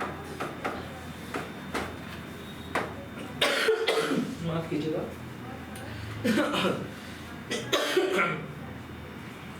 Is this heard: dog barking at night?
no